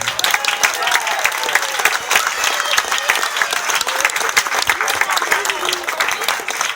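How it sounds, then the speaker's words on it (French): Applause from a crowd at a village school fair in France, a dense, steady burst of many hands clapping close by that carries on for several seconds without a break. "Je vous demande un tonnerre d'applaudissements."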